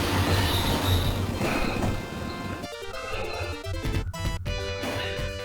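Train from a Capcom arcade game, a dense rumbling wagon roll with squealing, metallic wheel tones and clattering bursts toward the end, loud and continuous under a busy game soundtrack.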